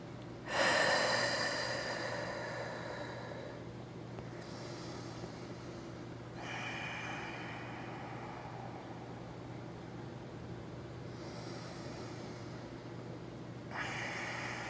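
Slow, deep breathing during a yoga session: a few long, audible breaths spaced several seconds apart, close and soft, over faint steady background hum.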